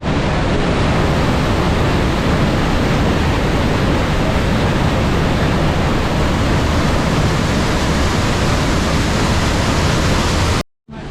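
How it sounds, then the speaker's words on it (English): Rhine Falls waterfall roaring with a constant, loud broadband rush of water, steady and overwhelming for about ten seconds before cutting off abruptly near the end. "only the loud roar of rushing water"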